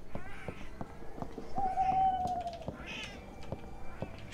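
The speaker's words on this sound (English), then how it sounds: "Shut the fuck up, cat." Cat meowing in a dark horror video game, several drawn-out meows at moderate loudness, one longer whining cry in the middle, with a faint voice talking briefly underneath.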